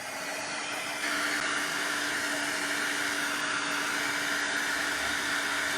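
A heat gun blows a steady, loud rushing hiss close by while drying a mixed media altered paintbrush, stepping up in strength after the first second and holding constant.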